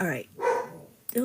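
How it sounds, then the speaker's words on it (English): A dog barks indoors, a couple of short yips mixed in with a person speaking nearby. "that's my dog"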